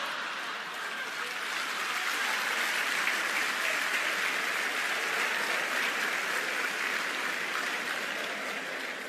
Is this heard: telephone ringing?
no